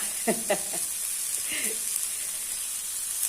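Shallots and Chinese garlic dry-roasting in a pan give a steady, soft sizzling hiss throughout, with a brief voice near the start.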